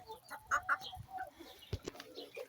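A hen hiding near a tree on a rural homestead in autumn gives a few short, soft clucks against a quiet outdoor background, fairly distant and intermittent.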